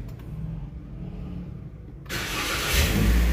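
A Toyota All New Rush engine cranks and catches after a quiet stretch, then settles into a steady, fairly loud running drone close by.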